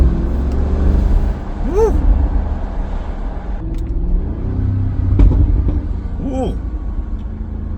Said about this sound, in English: Much more aggressive on the downshifts when coming to a stoplight too, in dynamic mode.